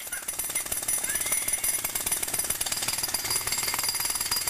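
A pneumatic drill hammers continuously at close range, a loud, dense, rapid rattling that stays steady throughout with no voices over it.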